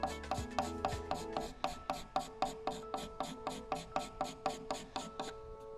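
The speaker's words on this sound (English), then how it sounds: "And then you'll take your scraper and scrape the stain" A scraper rasps stain off wooden end grain in steady, rhythmic strokes, about sixteen evenly spaced, close and fairly loud scrapes repeating without talk.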